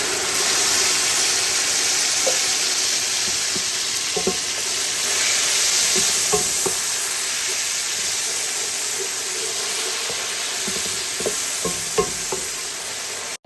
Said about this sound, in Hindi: टमाटरों का पेस्ट थोड़ा सा पक जाए